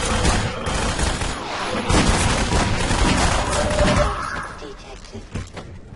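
Gunfire in a Team Fortress 2 match, a dense fusillade of repeated shots and booms running continuously for several seconds before tapering into scattered bursts, with a voice speaking over the action.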